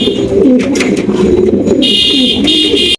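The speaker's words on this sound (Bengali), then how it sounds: "এখানে দেখতে পাচ্ছি চমৎকার এক জোড়া শোকিং কবুতর" A pair of pigeons coo steadily and close by in soft, repeated throaty rolls, with a thin high buzzing tone joining in partway through.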